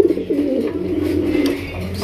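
Pigeons of the Raj Golla breed coo in a loft, their low, throaty calls repeating closely and steadily over a soft background.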